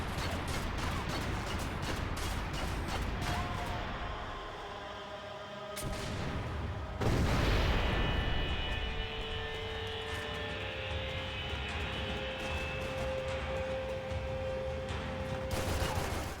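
Gunfire from a tank in the Max Payne 3 shooter game: dense bursts of rapid shots, a heavy blast near the middle, then sustained battle noise with whining tones, all loud and close.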